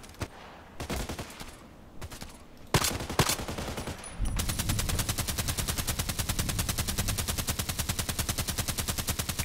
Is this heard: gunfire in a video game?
yes